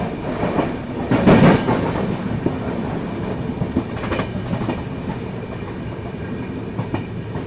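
The Sachkhand Express rolls through Jalandhar Cantt station without stopping, sounding as a loud, continuous rumble of carriages. Rhythmic clickety-clack from the wheels runs steadily throughout, close by.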